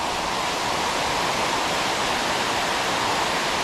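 A small inlet pours water into Laurel Lake, a 6,000 acre lake, with a steady, close, continuous rushing flow and no voices.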